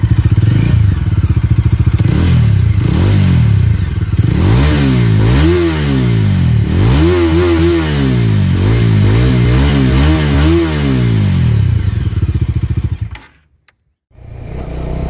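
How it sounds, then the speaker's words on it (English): A 2021/2022 Bajaj Dominar 250 BS6 motorcycle engine is revved again and again, pitch climbing and falling in repeated sweeps, loud and close, before cutting out near the end. "And now let's rev this motorcycle."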